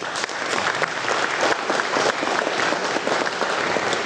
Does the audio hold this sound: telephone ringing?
no